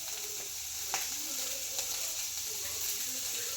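Carrot, cabbage and beans fry in a pan for egg fried rice, giving a steady, close sizzle with a soft broadband hiss and a couple of faint stirring clicks throughout.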